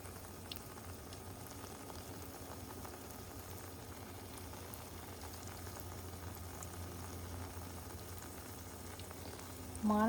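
Bora fritters fry in hot oil with a steady, close bubbling sizzle that holds evenly throughout, ending with a slightly louder burst.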